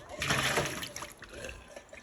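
Cold water splashing over a hot backpacking stove pot, a brief close splash and trickle that fades into lighter dribbles, with a voice heard alongside.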